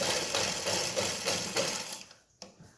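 A zigzag sewing machine stitches cloth in a fast, even mechanical rhythm of close, loud pulses for about two seconds, then stops with a small clack.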